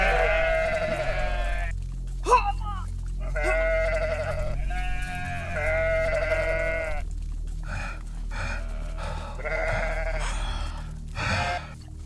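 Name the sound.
sheep bleating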